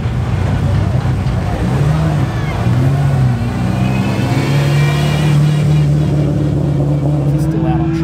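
Supercharged 1000hp Honda Integra revving hard during a roll race, a loud sustained engine roar with rising and falling pitch throughout, with voices talking over it.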